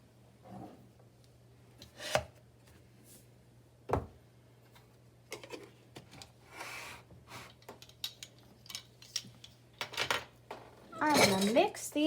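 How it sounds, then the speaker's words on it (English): Salt and dry ingredients are stirred together in a bowl, with close, scattered clinks, taps and scraping of a utensil against the bowl. "I'm going to mix these together to make sure that they're combined."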